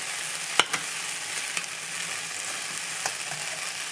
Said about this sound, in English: I come in here and I fold them over just like this.